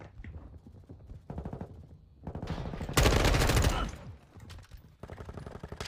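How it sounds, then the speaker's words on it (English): Fully automatic gunfire in Modern Warfare II: rapid rattling bursts, with one loud, dense volley at the centre and quieter automatic fire before and after. The shots come close and hard, with no speech. "This gun is fully automatic."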